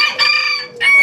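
A rooster crows loudly and close by in two short bursts separated by a brief pause.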